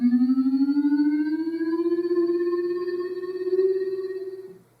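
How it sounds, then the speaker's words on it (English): A Doctor Who Tardis Bluetooth speaker gives off its powering-up effect, a single smooth rising siren-like electronic tone with a faint pulsing wobble, close and fairly loud, fading out at the end. "it will emit a powering up sound effect"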